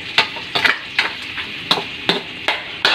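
Garlic, onion, ginger and pork ribs sauté in oil in a pan, with about eight sharp, evenly spaced scrapes and clanks of a utensil stirring them over a soft background sizzle, close and clear, no talking.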